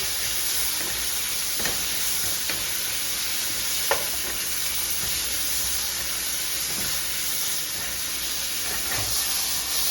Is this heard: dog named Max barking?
no